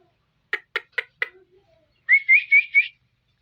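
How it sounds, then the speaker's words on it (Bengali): A pet myna gives four short sharp clicks, then a run of four clear, loud, rising whistled notes, close by and alone. "এই যে ময়না, ময়না সুন্দর মতো কথা বলতে পারে।"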